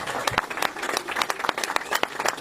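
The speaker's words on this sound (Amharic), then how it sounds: "አጨብጭቡልኝ በእናታችሁ" An audience applauds at a car handover event in an electronics shop, with irregular sharp claps forming brisk, uneven applause at close range.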